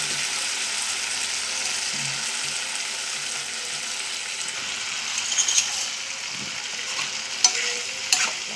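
Dried fish tipped into a pan of onions frying soft for a tomato curry, giving a steady, close sizzle with stirring scrapes and a few sharper clinks toward the end, and no talking.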